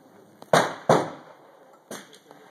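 Mosin-Nagant rifle fired outdoors: three sharp, loud reports, two in quick succession and a third after a pause, each with a short decaying echo.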